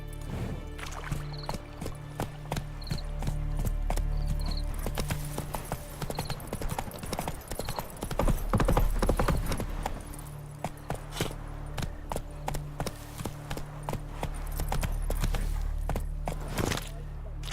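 Roach the horse's hooves clip-clopping in The Witcher 3, a steady sequence of hoof strikes at a walking rhythm, slowing and stopping briefly midway before resuming, over soft game ambience.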